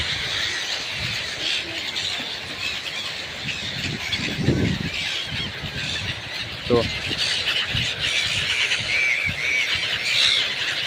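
Ibis birds call in a noisy flock outdoors, a dense continuous chorus of high squawks and squeals with occasional louder cries, while a person talks nearby over the din.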